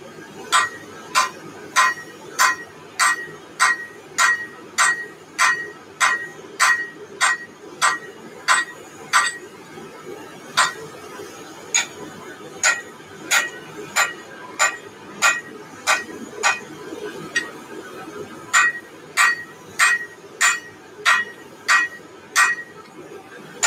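Hammer blows ring on an anvil in a blacksmith forge while a fireplace tool stand is forged: a steady, evenly spaced run of bright metallic tings, about two per second, with a few short pauses and a low murmur of shop noise beneath.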